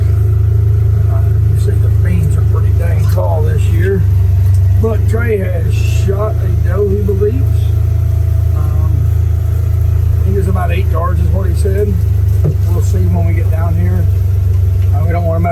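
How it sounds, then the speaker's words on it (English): A vehicle drives after dark around the edge of a bean field in Kentucky, its loud, steady low engine rumble running throughout while people talk over it. "we're driving all the way around the edge to get to him"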